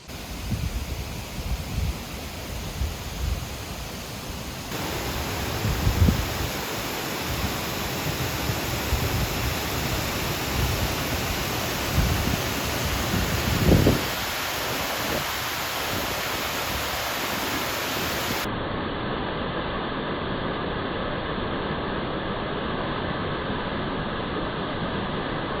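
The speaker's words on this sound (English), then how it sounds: "It's either really big wind or the waterfall." A steady, broad rush of water or strong wind at a Michigan outdoor attraction roars continuously and loud, with occasional low thumps and gusts. Partway through, the tone shifts and the highest hiss drops away.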